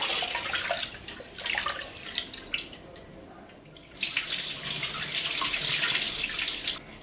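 Water runs from a tap in bursts, splashing and swirling as ration rice is stirred and rinsed in a vessel, with a brief lull midway.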